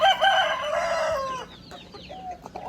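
A young rooster weighing 2.7 kilograms gives one loud, close crow lasting over a second, followed by shorter, quieter calls and clucks.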